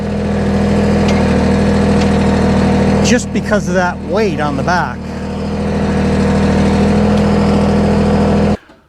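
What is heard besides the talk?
tractor engine running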